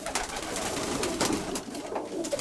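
A pigeon coos softly in low, repeated murmurs, close by, with light rustling in the background.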